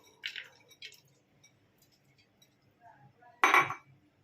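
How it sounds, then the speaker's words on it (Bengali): Dry chana dal tipped into a pressure cooker, heard as a few short clinking rattles of hard grains against metal, with one louder burst of pouring near the end and quiet gaps between. "কুকারের মধ্যে আমি ছোলার ডালগুলো ছেড়ে দিচ্ছি।"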